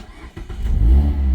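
A Mazda MX-5 sports car with a timing-chain engine fires up from cold, the close, loud engine catching and swelling into a raspy, revving idle that builds and holds steady through the short clip.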